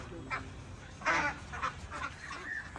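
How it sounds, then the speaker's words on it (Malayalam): Exotic Cayuga ducks quack in several short, raspy bursts spread over a few seconds, fairly close, over a low background rumble. "എല്ലാം നല്ല എക്സോട്ടിക് താറാവുകൾ"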